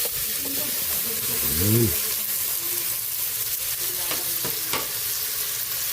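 Pork frying in a pan for sinigang or dinuguan, giving a steady loud sizzle with stirring clatter and a few sharp utensil knocks, while someone briefly speaks over it.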